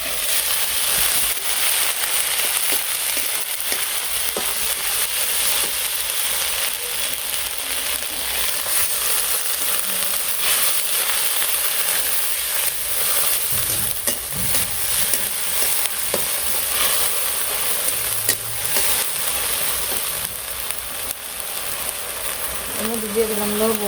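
Chicken frying in a pan with ginger, green chilli and garlic paste, a dense, loud continuous sizzle and crackle throughout, with occasional stirring and a voice speaking faintly underneath.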